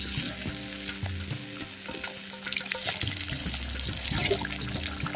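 Cauliflower 65 cooking in a spicy masala gravy, bubbling and sizzling in the pan with occasional stirring scrapes, close and moderately loud, with no voices.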